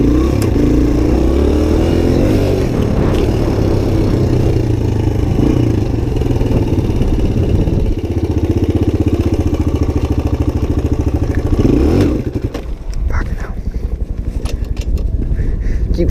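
A Suzuki DR-Z 125 pit bike engine runs loud and close in second gear, with a rough, revving drone for about twelve seconds before it cuts and sputters toward idle.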